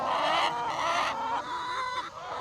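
Flock of farm hens clucking continuously and close by as they head up to roost for the night, overlapping calls forming a busy, steady chatter.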